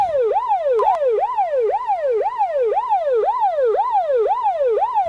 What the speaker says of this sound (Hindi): और यहाँ एम्बुलेंस में राधा चंदा सोनम सभी बैठे हुए हैं